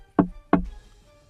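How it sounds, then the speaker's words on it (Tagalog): Two knocks from a finger tapping on cement, close and distinct, about a third of a second apart, each short and dull with a quick fade, then silence, in an eerie horror-story setting. "tunog ng daliri sa semento"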